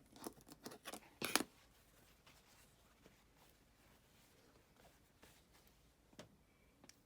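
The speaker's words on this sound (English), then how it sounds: "Now to save some fabric, I'm just going to cut this off." Scissors snip off excess fabric from a pineapple quilt block made with freezer paper piecing. A quick run of crisp close cuts comes early, then a few faint isolated snips and soft rustles in quiet.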